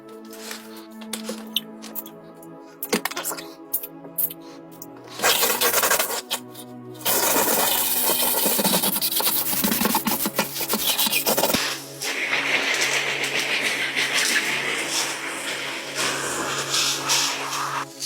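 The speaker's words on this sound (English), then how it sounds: "So let's get to scrubbing, y'all." Scrub brush with dish soap scouring the inside of a cold plunge tub, near rasping strokes, sparse and broken at first, then becoming steady and continuous.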